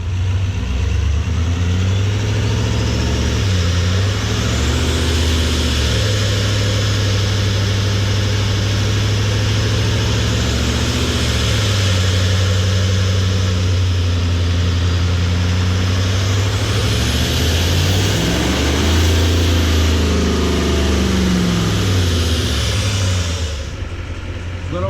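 An L5P Duramax diesel pickup runs on a chassis dyno, its engine loud and continuous as it climbs through repeated rising pulls with the tone sweeping upward, then easing and building again over a deep steady drone.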